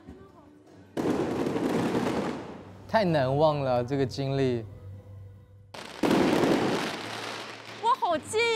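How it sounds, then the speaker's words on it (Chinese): Fireworks at an outdoor dance party explode in two loud, sustained bursts of crackling booms. Between them, excited voices talk and exclaim close by. "好浪漫呀，放烟花，"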